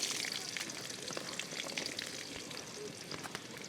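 Steady, dense sizzling and crackling of chopped onions frying in hot oil, close and continuous throughout, with no talking.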